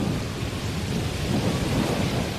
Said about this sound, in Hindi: फिर मूसलाधार बारिश होने लगी